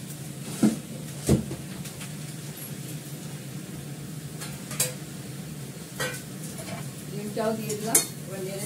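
Egg with tomato and hot chilli sauce stirred in a pan, giving scattered metallic scrapes and clinks of utensil against cookware, loudest in a few sharp knocks, over a low steady kitchen hum.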